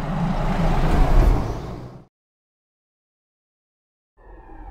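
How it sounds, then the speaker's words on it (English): A car drives past loudly with a rising and fading engine roar for about two seconds, then silence, followed by a faint engine hum returning. "Car."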